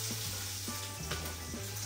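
Bacon sizzles and crackles steadily in a non-stick frying pan, with a few soft stirring or scraping taps over the constant hiss, fairly quiet and close, without talking.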